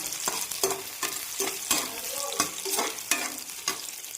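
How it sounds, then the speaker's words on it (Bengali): A large onion fries in three tablespoons of hot white oil, sizzling steadily while a utensil stirs it in repeated scraping strokes, loud and close with no voices. "তেল গরম হয়ে গেছে দিয়ে দিলাম একটা বড় সাইজের পেঁয়াজ"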